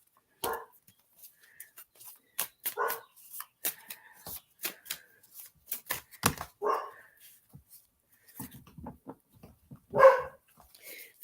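Tarot cards being shuffled and tossed down during a reading, a run of quick crisp riffles and slaps spread across the clip, fairly close, with a dog barking and whimpering in between.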